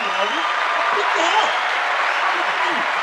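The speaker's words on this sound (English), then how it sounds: "Let's give me a round of applause." Sustained applause fills the space as a broad, steady wash of clapping, with voices speaking faintly beneath it.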